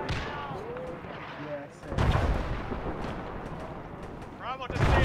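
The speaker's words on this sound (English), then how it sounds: "Cages, artillery! Southwest, take cover!" Artillery shells land in a WW2 game battle at Arnhem. Deep, rumbling blasts hit at about two seconds and again near the end, loud and close, with shouting voices and chatter between them.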